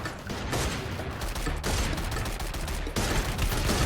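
Rapid gunfire from the Free Fire mobile shooter in its first-person mode, dense bursts of automatic shots running continuously and loudly, with brief dips between volleys and no speech.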